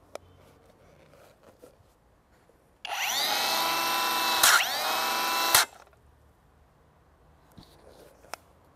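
A Bosch GWS 18V-8 cordless angle grinder with a flap disc spins up sharply, whines loudly for nearly three seconds with a brief jolt midway, then cuts off and winds down, leaving quiet handling noises.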